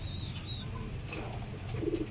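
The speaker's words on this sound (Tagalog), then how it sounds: "Mga kalapati natin." Pigeons in a loft give soft, low cooing at close range alongside a few brief chirps, with faint wing flutters against a steady background hum.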